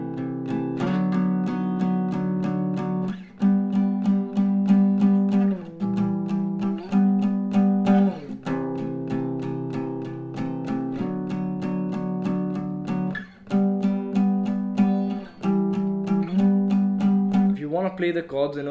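An acoustic guitar strums the open-position chords of the main riff of a song, steady downstrokes in repeated four-beat patterns with chord changes every few seconds, close and clear with no talking.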